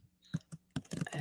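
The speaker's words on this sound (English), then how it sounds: "I hear fast typing" Fast typing on a computer keyboard: a short burst of quick, close key clicks in an irregular rhythm, heard alone.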